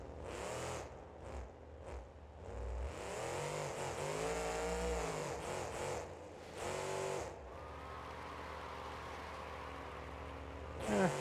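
A monster truck in BeamNG.Drive revs and drives hard, its engine pitch rising and falling through repeated surges, with rough thumps as it lands and crashes against sidewalls, loud and close with no talk.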